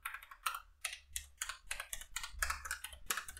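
Fingers type on a Keychron K1 wireless keyboard, producing a quick, uneven run of crisp key clicks and clacks, moderately soft and close, with no voices.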